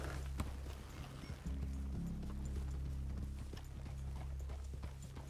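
Horse hooves clip-clopping in the video game Red Dead Redemption 2, a quick uneven run of close hoofbeats over a low droning ambient bed, with no talking.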